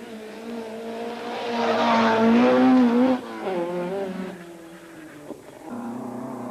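A classic Ford Escort rally car drives through a historic rally stage in Killarney, its engine note rising loudly as it passes close by, then fading with a brief tyre scrabble before the engine returns.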